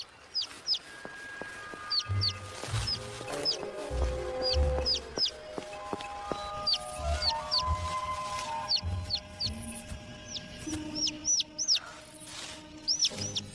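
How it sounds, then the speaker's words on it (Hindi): Small cartoon bird chirping in a Hindi-dubbed animated show, repeated short high tweets over a soft music bed with low thumps, no talk. "ओह, एक नन्हा सा पंछी।"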